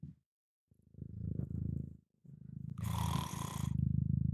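A cat purrs close to the mic in rhythmic rumbling breaths, pausing twice, with a brief breathy hiss mixed in near the end.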